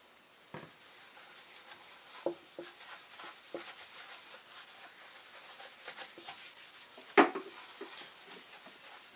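Tru-oil finish is rubbed by hand into a guitar body in a luthier's shop, a soft continuous rubbing hiss with occasional light knocks and one sharper tap.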